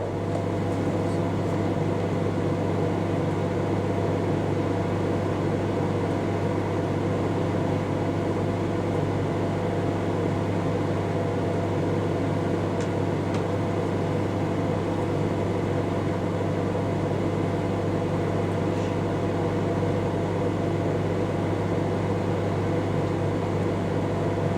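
A vintage 1980s Sharp Carousel II microwave running, a steady loud hum and drone with fan noise, unbroken and even from start to finish.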